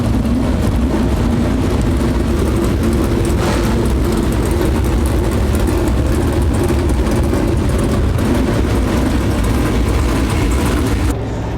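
Race cars roar around a dirt track at the World 100 before a heat race, a loud, dense, continuous engine din with no break, heard near and without talk.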